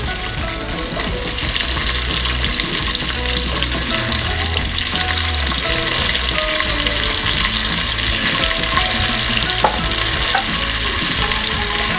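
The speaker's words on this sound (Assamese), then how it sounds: "পিয়াজখিনি মই ৰঙচুৱা হোৱালৈকে এইখিনি মই ভাজি লম" A medium-sized chopped onion frying in a pan of hot oil for biryani, a loud continuous sizzle with occasional stirring and scraping, close and steady throughout with no speech.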